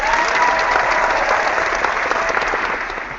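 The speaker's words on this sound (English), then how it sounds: "I'll at least give you a round of applause." A steady round of applause from a crowd fills the whole stretch, dense and even, tapering slightly at the end, with no talking over it.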